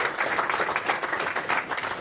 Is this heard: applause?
yes